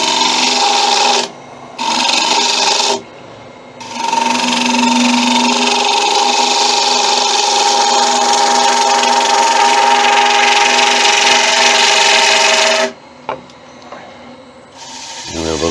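An end grain wooden bowl spins on a wood lathe while a tool rasps and scrapes steadily against it, loud and close, stopping and restarting in short pauses at the start and end.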